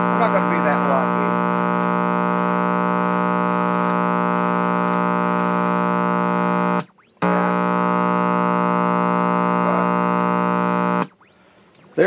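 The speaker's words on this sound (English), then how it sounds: "a hum is no big deal" An old WW2-era television set hums loudly and steadily with a rich, buzzing harmonic drone, cutting out briefly twice with crackling clicks before resuming.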